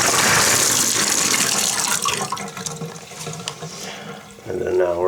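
Water gushes hard from a Delta Monitor tub and shower faucet being flushed of air and debris during a repair, a loud continuous rushing that eases and then surges again near the end.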